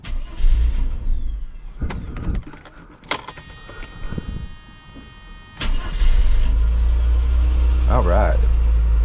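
Keys jingle and a starter turns before a Mercedes W124 300E, unused for two months, fires up and settles into a loud, steady idle close by.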